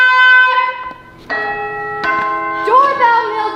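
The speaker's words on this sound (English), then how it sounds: "Doorbell, Mildred." A bell-like doorbell chimes several clear tones in sequence, loud and close, with a voice briefly breaking in near the end.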